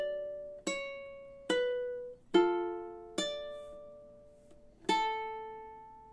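A ukulele plays measures 15 and 16 of a song, five separate plucked notes spaced evenly, bright and fairly quiet, each ringing out before the next, with no voices.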